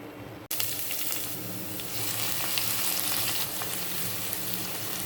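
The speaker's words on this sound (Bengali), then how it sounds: "পেঁয়াজগুলো ভেজে নিচ্ছি" Onions frying in a pan, with garlic added, for an okra dish: a steady, dense sizzle that kicks in abruptly after a brief quiet start and holds close and loud throughout, with no talking.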